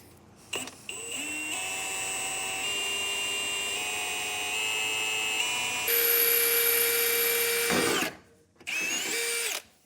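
A power drill whines steadily, its pitch shifting as it bores into the metal frame of a 2015 Ram 1500 truck, briefly stopping before revving again near the end.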